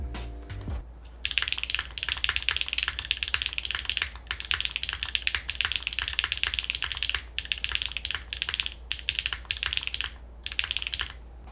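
Rapid typing on a Stratum-80 mechanical keyboard with no foam and a Cherry-switch spacebar, heard up close as a steady run of crisp, clacky keystrokes with brief pauses and no voices.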